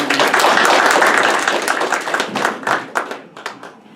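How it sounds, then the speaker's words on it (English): Applause from a crowd at a Saline County Republican party meeting, dense steady clapping that thins into scattered individual claps as it fades out over a few seconds. "Give him a round of applause."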